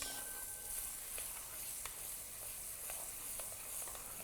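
Onion and curry leaves fry in hot oil for a pepper chicken curry, making a faint, steady hiss dotted with small scattered crackles and pops.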